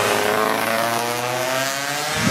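A vintage 1970s racing motorcycle over 350cc roars past at an oldtimer Grand Prix in Schwanenstadt, a loud, dense, continuous engine note sustained throughout the clip.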